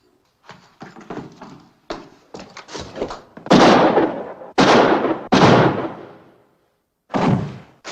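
Gunfire in a western film: scattered sharp cracks and scuffles build into three or four loud, booming shots with ringing tails, then one final blast after a brief silence.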